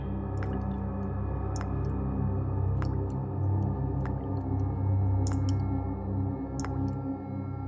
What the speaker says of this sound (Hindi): कुछ टपकने की आवाज आ रही है ना?